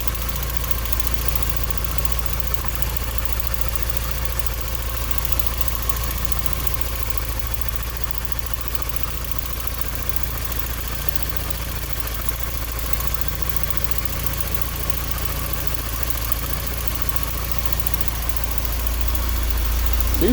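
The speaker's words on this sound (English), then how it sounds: "Seems to be idling a little better," A 1983 Porsche 944 engine idles steadily with a low, even rumble and faint knocking vibration, close up and unbroken, with no voices.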